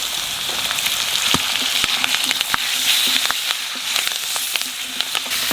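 Potatoes frying with turmeric in a pan give a steady, close sizzle with scattered crackles and pops and occasional stirring, and no voices.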